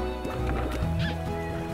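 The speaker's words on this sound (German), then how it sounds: "Diese komische Ente oder das Huhn oder was auch immer das da drin ist. Das hört sich so komisch an." A duck- or chicken-like creature in the Slime Rancher video game gives a quick run of nasal quacking squawks, close and clear against a steady game backdrop, with no talking.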